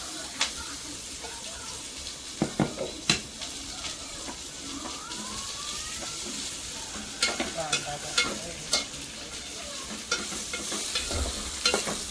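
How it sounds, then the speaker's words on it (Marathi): Onion frying in a pan over an open fire while cooking oysters on an island, giving a steady hiss with sharp scraping clicks of stirring scattered throughout. "त्याच्यामध्ये आपला कांदा करपते आणि त्याच्यात टाकते मिरची टॅमॅटो"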